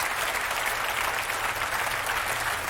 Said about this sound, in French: Merci de l'applaudir avec David.